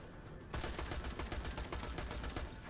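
Rapid gunfire from the shooter game Borderlands: The Pre-Sequel starts abruptly after a brief pause and continues as a dense, fast, loud burst of repeated shots with no talk.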